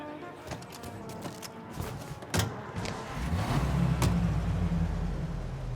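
A taxi car driving in the Mafia Definitive Edition video game: scattered thumps, then a low engine hum that swells and holds steady as the car pulls away.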